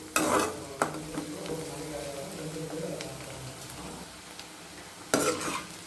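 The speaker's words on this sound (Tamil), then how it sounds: "கொஞ்சம் மீடியமாக வதங்கினதும் தக்காளியை இதில் சேர்த்துறணும்" Onions sautéing in a pan for chicken varuval crackle with a low, steady sizzle, broken by a few louder clattering stirs of a spoon at the start and near the end.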